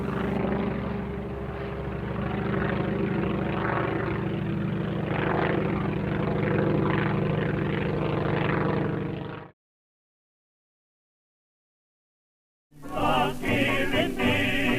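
A Ryan replica aircraft built as a Spirit of St. Louis, its radial engine droning steadily and loudly as it flies, then a sudden gap of silence before the engine noise returns.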